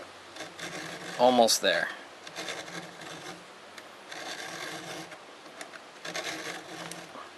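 File sharpening a chainsaw cutter, with short, close rasping strokes repeating under a man's brief speech.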